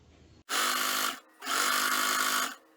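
Home sewing machine stitching a sleeve seam on fabric, two loud continuous motor runs of about half a second and a second each, separated by a short pause, close up with no talk.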